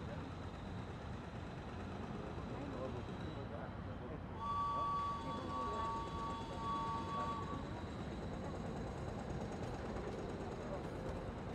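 Orient Express train running in the Murder on the Orient Express game, a continuous low rumble of wheels and carriages with a brief tonal whine in the middle, under speaking voices.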